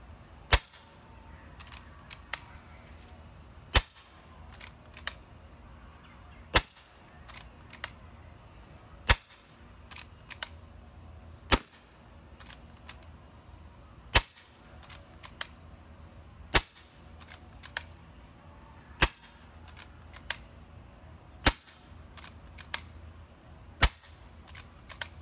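Kral Puncher Breaker PCP air rifle with SSG and MKIII valve kit firing on high power, a long string of sharp, loud, evenly spaced cracks roughly every two seconds over a quiet background.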